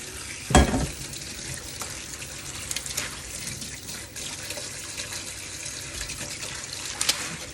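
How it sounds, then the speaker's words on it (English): Spinach is rinsed under a running kitchen tap, giving a steady faint hiss of water with a short louder splash near the start and light scattered spatters. "break the stalks off and wash the spinach"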